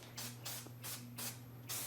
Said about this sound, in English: Spray adhesive. We have to spray both surfaces.